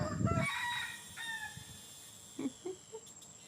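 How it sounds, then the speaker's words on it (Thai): A rooster crows loud and close at the start, then quieter clucks and scattered bird calls follow over a hushed outdoor background. "ใครก็ได้เอาไก่ตัวนี้ไปเก็บที"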